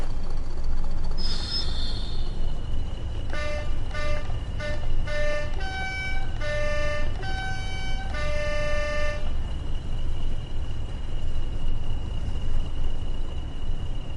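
Horn of a train in Train Sim World 6 blaring in a series of short and longer toots, loud and close, over a steady rumbling cab noise, followed by continued engine hum.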